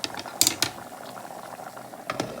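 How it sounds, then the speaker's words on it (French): A pot of rice with chorizo at a steady boil, giving soft continuous bubbling and small pops, with a few brief clinks near the start and again near the end. "ça bout bien"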